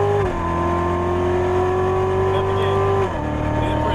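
A 2015 Chevrolet Corvette C7 Z06 engine drones loudly and steadily on the Las Vegas Motor Speedway track, then its pitch steps down as it shifts gear; sustained, close and intense.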